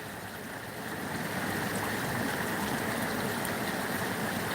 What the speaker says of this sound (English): See how the water goes under the log?